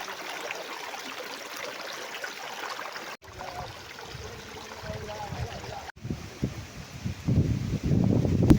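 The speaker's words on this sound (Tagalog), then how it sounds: "So ito, may ilog na agad dito." A river flows near waterfalls outside Puerto Princesa, Palawan, giving a steady broadband rush of moving water that swells louder toward the end, with faint voices and handling noises mixed in.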